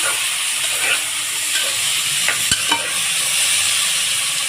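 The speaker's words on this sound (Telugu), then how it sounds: "చక్కగా ఇలా కలుపుకోనండి" Mutton curry with onions and curry leaves is stirred in a hot pan, a steady loud sizzle with occasional scraping and knocks of the spoon, no talking.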